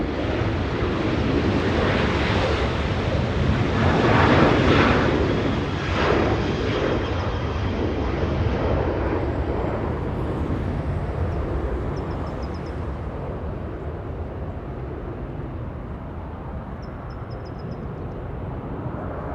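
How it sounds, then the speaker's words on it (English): A Southwest Airlines jet takes off at Los Angeles International Airport, bound for El Paso, its engines producing a steady, loud, broadband roar that swells early and then holds before slowly easing off. "Now we go to Southwest Airlines getting a move on, flying to Texas, El Paso"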